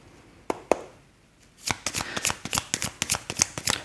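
Tarot cards being handled, with two soft snaps first, then a rapid run of crisp riffle-shuffle clicks, close and clear with no talking.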